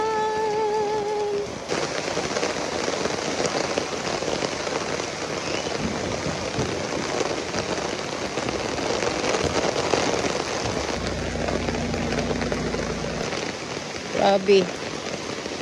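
Steady rain pours down in Davao, a dense continuous hiss across the whole span, with a person speaking briefly over it and a low rumble joining near the end.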